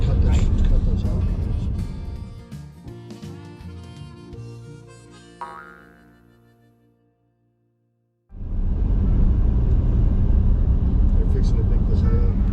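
Trucks passing on a rural road where hay is about to be collected, a loud close rumble that fades away to near silence, then a second vehicle roars in abruptly and stays loud to the end.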